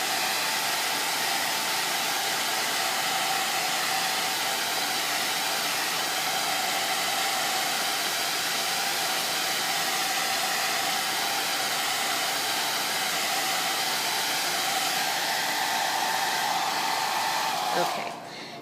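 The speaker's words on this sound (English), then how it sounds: "I'm going to go ahead and just blow dry this again, just in case" A hair dryer blows steadily on a freshly applied chalk transfer, a continuous close whooshing whir that runs unbroken for about eighteen seconds before switching off abruptly at the end.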